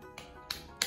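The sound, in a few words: hand clapping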